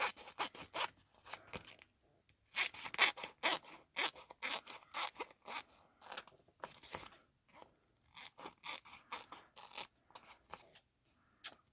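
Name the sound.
scissors cutting off excess vinyl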